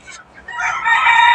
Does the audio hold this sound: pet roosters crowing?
yes